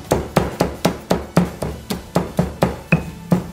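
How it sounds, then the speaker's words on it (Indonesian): Candlenuts are pounded with a mortar and pestle while cooking a green chili beef dish, giving about a dozen sharp, evenly spaced thuds at a brisk steady rhythm, close and loud. "Sebelum tumbuk cabai, saya ingin tumbuk kemirinya dulu."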